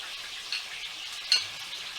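Chicken pieces frying in a pan for chicken korai, a soft steady sizzle with a couple of brief clinks, close and fairly quiet.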